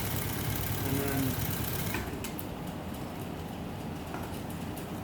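A sewing machine stitching a zipper flap, a steady mechanical whir running close for about two seconds before stopping, leaving faint handling sounds.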